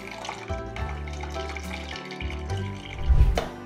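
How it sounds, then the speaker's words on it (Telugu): Squeezed tamarind water poured from a vessel into a bowl of crushed onions and dried chillies for a village-style raw tamarind stew, a close splashing, trickling stream that swells louder toward the end. "ఇందులో ఉల్లిపాయలు, ఎండుమిరపకాయలు పిసికిన దాంట్లో మనం చింతపండు మంచిగా పిసుకొని ఇలా పోసుకోవాలండి."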